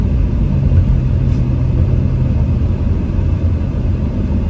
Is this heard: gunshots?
no